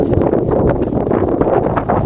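Strong wind buffeting the microphone outdoors at dusk, a loud, rumbling, gusty roar that surges and dips without pause.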